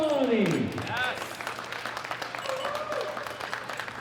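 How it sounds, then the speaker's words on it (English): Applause from the crowd at a world classic powerlifting championship, steady clapping that runs under an announcer's amplified voice at the start and then carries on as a dense, even patter. "A big round of applause for Farjeen Sultani."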